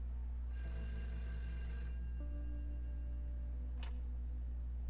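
A telephone rings in the prison visiting area of the video game A Way Out, a steady electronic ring tone held over a low constant hum, with a brief sharp click near the end.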